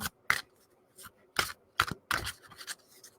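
Herb oracle cards are shuffled by hand in short, crisp bursts of riffling and flicking, spaced irregularly and heard close up.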